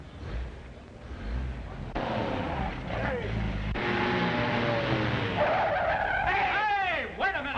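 Tires squeal and skid on an old 1941-era car, rising whines sweeping up and down near the end over a busy, loud background with voices talking.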